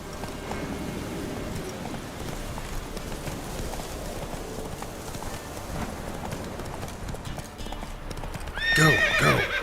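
Horse hooves clip-clop at a steady gallop in The Witcher 3, a continuous rhythmic beat with a loud whinny near the end.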